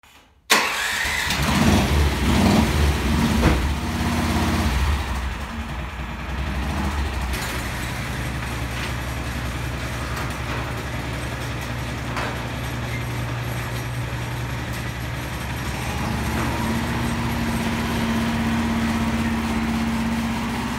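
A Speeduino-tuned, street legal go kart engine starts with a sharp catch, then runs at a steady, loud, rough mid-pitched idle and drive that stays close for about twenty seconds.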